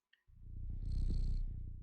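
Cat purring from a sound file in the video game Stray: a close, loud, steady rumbling purr lasting over a second, preceded by a tiny faint blip, with no voices.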